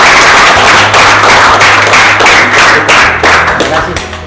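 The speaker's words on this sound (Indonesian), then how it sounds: "Beri aplaus untuk rombongan" An audience at a state senior high school claps for a visiting group, a dense, steady wash of applause that stays loud throughout and thins slightly toward the end.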